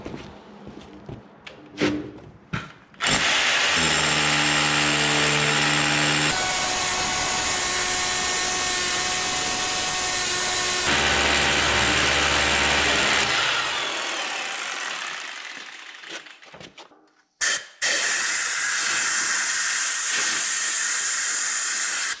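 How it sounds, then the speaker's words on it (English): A rotary hammer drill bores an anchor hole in a concrete garage floor for a four-post car hoist, loud and harsh, followed by a long hissing blast of compressed air clearing the hole, then a short final burst. "after the hole's drilled and blown out with compressed air"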